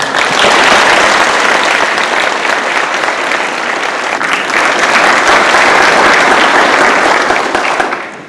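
A large gala audience at a birthday celebration bursts into sustained, loud applause that holds steady for about eight seconds, then begins to fade at the very end.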